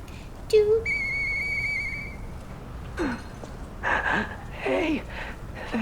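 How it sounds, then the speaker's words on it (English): A whistle in the video game Lies of P: a brief rising tone followed by a steady held whistle lasting about a second, then several breathy vocal-like bursts. "I know that whistle."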